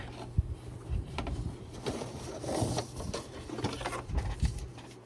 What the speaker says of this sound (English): Okay, so I'm going to take this out of the hoop.